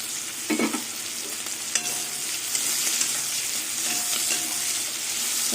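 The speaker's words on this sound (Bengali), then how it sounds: "রসুন দিয়ে কিছুক্ষণ ভেজে নেবো" Garlic fries with prawns and onion in a pan, giving a steady sizzle throughout with a few scraping stirs of a spatula, close and moderately loud, no talking.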